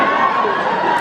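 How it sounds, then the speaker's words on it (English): Convention audience at MEGACON 2019 cheering and shouting in a loud, dense, continuous wash of crowd voices for about a second. "Now you're cheering for that."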